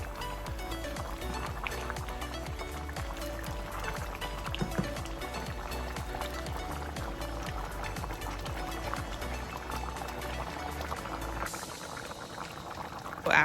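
A simmering pot of red beans and rice bubbles and pops steadily up close, a thick dense burble with scraping stirring mixed in, continuous and fairly loud throughout with little talk.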